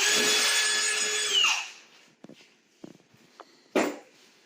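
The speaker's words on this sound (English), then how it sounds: "I took a drill with a drill bit," A power drill whirs loudly and steadily drilling through a wall for a mini split installation, then winds down, followed by a few scattered knocks and clicks and one louder burst.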